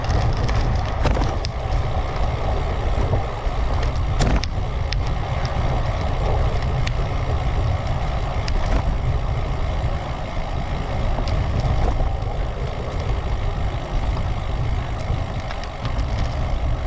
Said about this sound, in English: Cars are coming in, so I'll just go around there.